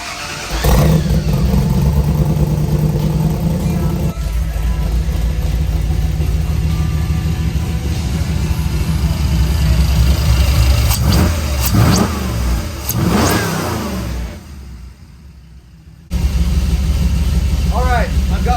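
A truck engine fitted with a Holley Sniper EFI system runs loud and close, rumbling and revving with rises and dips, briefly dropping away before returning.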